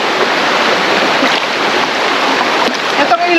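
A river at a campsite rushes in a steady, loud wash of water right beside the microphone. The flow is unbroken, with a faint voice near the end.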